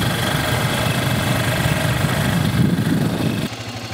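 A motorbike rides over a bumpy, corrugated washboard road on a Mongolian journey, its engine a steady loud drone with rattling vibration throughout, then dropping to a quieter tone near the end.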